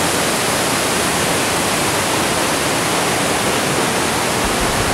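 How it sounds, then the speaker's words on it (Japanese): Waterfall at Kawazu Seven Falls in Japan, a loud continuous roaring rush of falling water, dense and unchanging, close by with no other sounds. "もう滝の音が聞こえてます。"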